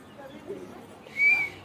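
A short, shrill police whistle blast sounds near the end, following a stretch of soft background voices and room noise.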